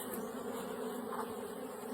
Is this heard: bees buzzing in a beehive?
yes